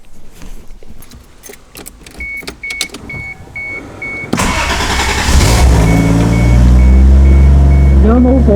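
A Toyota MK3 Supra with a new exhaust and the silencers removed: keys jangle and a door chime beeps before the engine cranks and fires about halfway through, then runs loud and close, climbing in a rev near the end.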